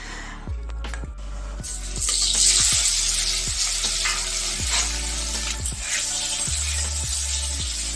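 Paneer pieces frying in oil in a pan, a continuous close hiss and crackle with a string of regular low thuds underneath, with no voices.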